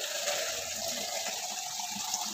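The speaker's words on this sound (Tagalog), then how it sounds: "Lalagyan natin siya ng konting tubig." Water pours into a pan of browning chicken for a Filipino pineapple chicken dish, giving a steady, close splashing and hissing wash with no talking.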